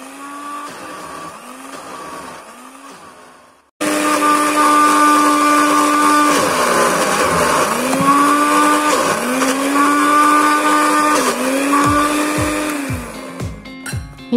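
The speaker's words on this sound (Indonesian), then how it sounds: "Yuk kita blender sampai halus semuanya" An electric blender grinding red beans into a smooth paste for cake filling: a quieter motor whir first, then a loud, steady high-speed roar that labors and surges as the beans break down, sputtering near the end.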